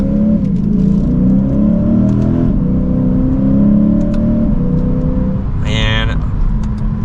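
A 2023 Lexus IS 500 Premium F Sport engine revs and pulls hard under acceleration, its pitch climbing through gear changes, loud and close from inside the cabin, with a brief tone near the end.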